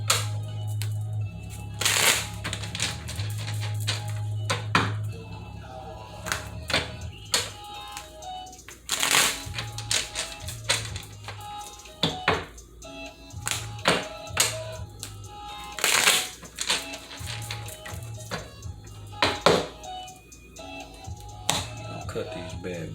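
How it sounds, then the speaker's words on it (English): Tarot cards are shuffled close by, with scattered crisp snaps and flicks and a few louder riffling bursts over a quiet background. "Get us a couple of shuffles."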